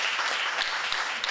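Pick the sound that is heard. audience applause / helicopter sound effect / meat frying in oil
audience applause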